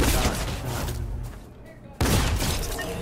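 Gunfire from a weapon in the game Fortnite, loud sharp bursts of shots that stop abruptly, leave a short quiet gap, then start again with another volley, with a voice heard among the shots.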